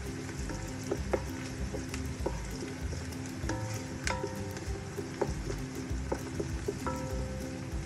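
Garlic frying in a pan for chicken afritada, a steady dense sizzle running throughout with scattered small pops and clinks of a utensil, close and fairly loud, no talking.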